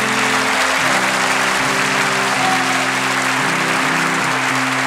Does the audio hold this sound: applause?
yes